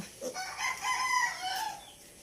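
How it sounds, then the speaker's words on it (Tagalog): A few short, throaty clucks and murmurs from a nearby hen, fairly quiet, with faint background noise. "Yan yung aming inahin."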